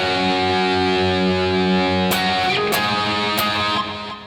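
Distorted electric guitar playing a riff, with a long sustained power chord followed by a few sharp strummed chord hits, loud and close with no voices.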